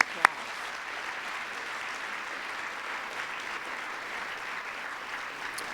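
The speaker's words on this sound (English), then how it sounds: "Let's give them all a big round of applause." Audience at a school event with the First Lady applauds in a steady, moderately distant wash of clapping, with one sharp nearby clap at the start.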